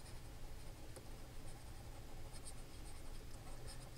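Pen or pencil writing by hand on paper, faint steady scratching strokes close by, quiet throughout with no talking.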